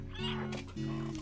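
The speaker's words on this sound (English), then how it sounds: "Kitty!" A cat meows repeatedly in the video game Stray, with two drawn-out, pitch-sliding calls close and clear over a steady background hum.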